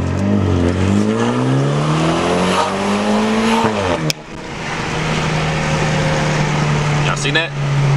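BMW 328i F30 engine revving hard and accelerating nearby, pitch climbing steadily through a gear, a brief break at a shift, then holding a steady loud drone; tire noise and a voice are faintly present.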